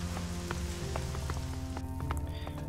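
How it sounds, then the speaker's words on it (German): A sandstorm in the video game Elex hisses as a dense, steady rush of wind-driven grit, with scattered pattering ticks like rain on a surface, constant and close for under three seconds, no talking. "Es regnet doch gar nicht, oder... Was ist das jetzt? Ach, das ist ein Sandsturm."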